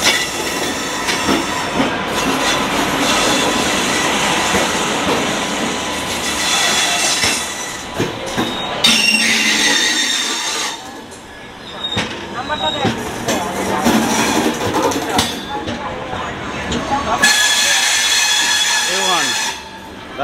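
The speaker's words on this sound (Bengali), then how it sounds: "এখন ঢুকছে 8:53 বাজে, দেখতে পাচ্ছ। জম্মু তাওয়াই, কলকাতা জম্মু তাওয়াই, যার ট্রেন নম্বর হলো 13152।" Kolkata–Jammu Tawi Express, train 13152, rolling into a station with a loud sustained rumble of wagons, rhythmic wheel clatter and high wheel squeals near the end, while people talk nearby.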